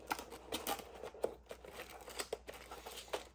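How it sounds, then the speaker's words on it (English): A CD108 mechanical keyboard with Cherry MX switches being lifted out of its packaging, with soft crinkling and rustling of plastic and paper plus small clicks and taps, quiet and close with no talking. "I'm just taking the keyboard out, taking a look at the keys"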